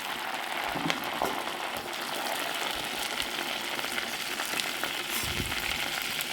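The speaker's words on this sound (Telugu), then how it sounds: "పచ్చిమిర్చి కరివేపాకు కొద్దిగా వేగిన తర్వాత ఉల్లిపాయలు వేసుకున్నాము" Onions frying in oil with green chilli and curry leaves for a mango fish curry, a dense continuous sizzle with occasional crackles and stirring scrapes, close and steady.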